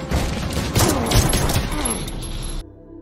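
Film gunfire, a dense burst of sharp cracks and crashing impacts, loud and close for over two seconds before cutting off abruptly into near quiet.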